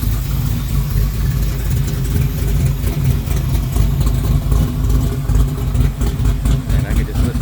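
A 1970 Camaro Z28 with a 454 small-block V8 idles loudly close by, a deep, lumpy, rhythmic rumble that stays steady throughout, with no talk over it.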